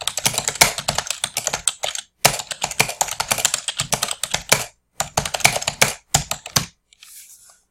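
Close computer-keyboard typing in quick bursts of rapid clacky keystrokes, broken by short pauses, with the keys stopping near the end, alone with no talking.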